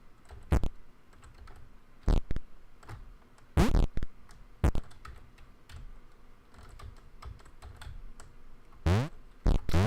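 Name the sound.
computer keyboard typing while playing Thomas Was Alone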